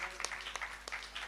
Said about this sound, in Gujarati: જોરદાર તાળીઓથી વધાવો.